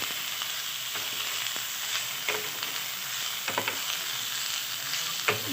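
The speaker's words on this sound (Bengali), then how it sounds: "এটা দিয়ে আমি ভালো করে নাড়তে থাকবো" Food frying in a pan with a constant quiet sizzle and hiss, broken by occasional scraping knocks as a utensil stirs the mixture, no one speaking.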